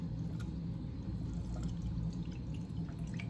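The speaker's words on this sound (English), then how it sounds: "We're going to pour that in there." Homemade milk kefir, thick with chunks on top and runny below, is poured steadily into a container in one continuous, close, soft liquid rush with no talking.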